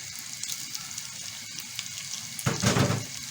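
Hot ghee and oil crackle and sizzle softly in a pan, then a louder hissing surge rises near the end as something is added.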